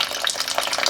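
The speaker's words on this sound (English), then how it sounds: "and I put the water in it." Hot water from a coffee pot pours steadily into a tub, a close, continuous splashing and gurgling stream.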